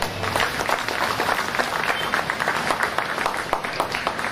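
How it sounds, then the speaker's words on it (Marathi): An audience at a public Buddhist dhamma initiation ceremony claps at length, a dense, steady wash of applause from a large crowd with no break. "तर दामोदरी सुगत यांच्यासाठी आपण अतिशय जोरदारपणे टाळ्या वाजवू."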